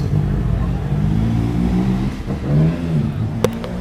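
An engine passes at roadside, swelling and fading through the clip with a sharp click near the end, matching a motorcycle going by, with no talk.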